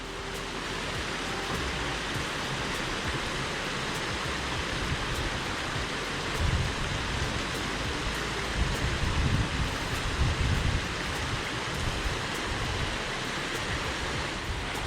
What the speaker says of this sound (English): Boulders with a running water, how lovely.